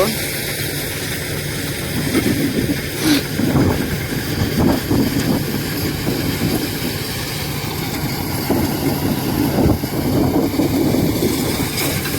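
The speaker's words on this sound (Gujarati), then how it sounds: "મિની ટ્રેક્ટર છે પણ ભાર ઉપાડી લેયો" A mini tractor carrying a heavy load runs steadily on a farm near a thresher, its engine a loud, continuous low rumble with rattling throughout, while people talk over it.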